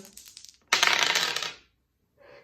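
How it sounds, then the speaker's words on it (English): A brief clattering rattle of small hard objects tumbling and settling, followed by a faint short tap after a pause. "We'll start by rolling the dice"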